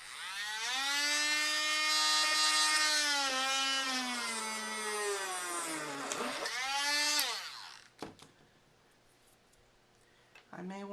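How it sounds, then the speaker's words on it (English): A cordless drill bores through a piece of fired silver metal clay, its motor whining in a sustained, shifting tone that sags and then cuts out, followed by a few sharp clicks in the quiet. "I need to drill that. I've got a cordless drill here."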